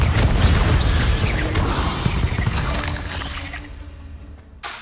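The Confringo explosive spell in the Hogwarts game goes off as a loud, close blast with crashing, shattering debris. It rumbles down over several seconds, and a sharp hit lands near the end.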